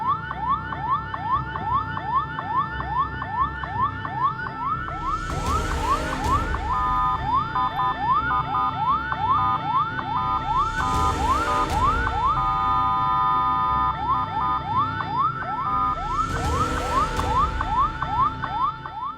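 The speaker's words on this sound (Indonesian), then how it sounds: "rombongan mobil pemadam kebakaran berjalan berurutan dengan mobil komando berada di posisi paling depan, diikuti mobil pompa" A convoy of fire engines led by a command car, followed by pump trucks and a rescue truck, passes with wailing sirens sweeping up and down continuously, loud and close, as three vehicles roar past in turn.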